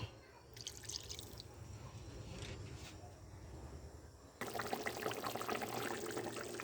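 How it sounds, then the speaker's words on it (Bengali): A pot of silver carp curry with pumpkin and potato boils with a soft, steady bubbling and dripping that grows louder and denser partway through. No one speaks. "এবার আমি দুই মিনিট ফুটিয়ে নেব"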